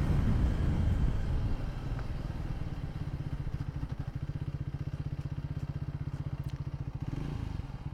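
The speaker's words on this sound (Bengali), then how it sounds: "দেখুন ব্রেকটা আমি এখান থেকে টেস্ট করছি, পিছনে ব্রেক প্রথমে।" A 2025 Triumph Speed 400 motorcycle with dual-channel ABS, its engine rumbling close up as the rear brake is tested, with a rapid pulsing rattle and clatter through the middle.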